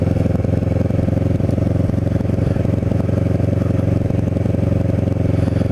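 A Kawasaki Ninja 650r motorcycle rides through a quiet seaside community in North Cape May, its engine a loud, steady, rumbling drone up close throughout.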